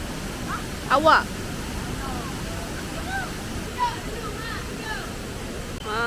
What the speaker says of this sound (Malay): Nampak sungai dia besar.